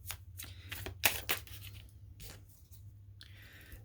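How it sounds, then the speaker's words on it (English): A deck of tarot cards is shuffled close by in a quick series of dry riffling and rubbing bursts, a couple of them sharper, with no talking. "I am going to go ahead and shuffle and see if we can get some clarification."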